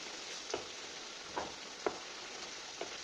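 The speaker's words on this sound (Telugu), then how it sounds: "మనం ఈ అల్లం వెల్లుల్లి పేస్ట్ని వేపుకోవాలి" Ginger garlic paste fries in a pan with a soft, steady sizzle, punctuated by a few brief pops or stirring taps at irregular intervals.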